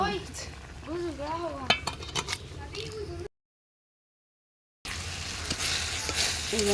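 Small fish frying in a pan sizzle steadily up close while someone talks over them, then a short dropout of silence, then more frying.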